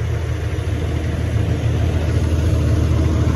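Steady truck engine drumming at a low, even idle as the rig is driven aboard a ship for loading, loud and close with no voices.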